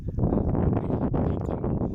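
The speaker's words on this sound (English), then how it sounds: "Very windy today." Strong crosswind buffets a microphone on a moving bicycle in a continuous low rumble with gusty surges, loud and close.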